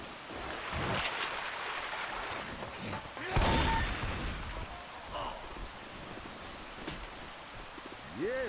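Gunfire in the video game Left 4 Dead 2 breaks out in scattered bursts and single shots over a steady background of game noise, with players talking at times.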